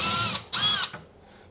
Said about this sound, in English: I'm drilling them literally 5-6 milli.